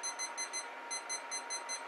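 A kitchen timer beeps in repeated short bursts of high, thin tones at a steady rhythm, heard close and fairly faint over a soft background hiss.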